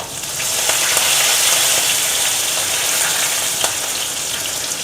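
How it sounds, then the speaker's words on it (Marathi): Green chili and curry leaves crackle in hot oil while tempering spices for dadpe pohe, a loud, steady sizzle with scattered sharp pops close by. "फोडणी एकदम कडक द्यायची आहे, तडतडली पाहिजे फोडणी."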